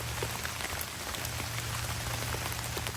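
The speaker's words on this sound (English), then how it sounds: "that rain's picking up, so we want this fire going" Steady rain patters on a blue Home Depot tarp shelter at a campsite, a dense, even hiss of drops with scattered louder taps, constant throughout and without any voices.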